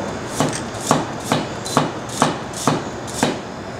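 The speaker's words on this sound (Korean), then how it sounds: "자, 그리고 당근을 한번 썰어볼게요." Knife chopping carrots on a cutting board: seven sharp, evenly spaced knocks about half a second apart, close and clear with no talking.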